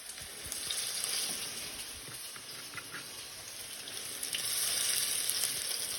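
A steady crackling sizzle, like food frying in a hot pan, continues throughout with no talking.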